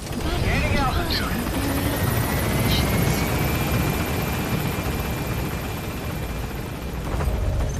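A helicopter gains altitude in the video game Call of Duty, a loud, steady rotor and engine roar that carries through the whole stretch with little change.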